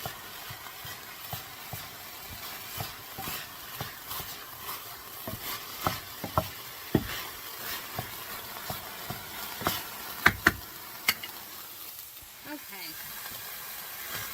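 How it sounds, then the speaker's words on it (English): Ground meat browns in a pan for baked ziti, giving a steady faint sizzle with scattered scraping clicks from stirring throughout. "the liquid is starting to come off the meat, and it's starting to cook. It's starting to brown more. You can hear it."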